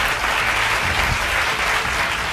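A church congregation at a Tamil Sunday service breaks into loud, sustained applause, a dense, even wash of many hands clapping together that fills the room for the whole stretch.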